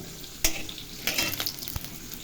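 A dried red chili and five whole spices frying in oil for mango chutney. The close, steady crackling sizzle is broken by a few sharp pops and stirring scrapes, with no talk.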